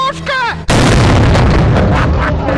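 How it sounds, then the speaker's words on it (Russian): A sudden, deafening cannon blast cuts in after a brief voice, followed by a sustained roaring rumble that fills the rest of the clip. "Аннигиляторная пушка!"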